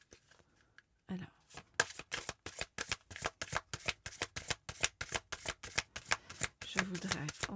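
A deck of oracle cards is shuffled by hand, starting after a near-silent pause and going on as a fast, even run of riffling bursts, close and crisp. A faint voice can be heard near the end.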